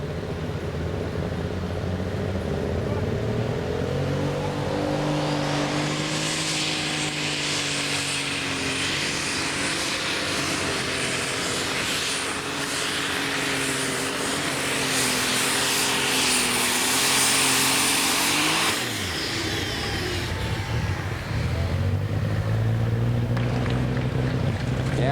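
A lightweight super stock pulling tractor roars loudly down the track at an ARP pulling event, its engine pitch rising and holding through a long pull before cutting off, then revving again near the end.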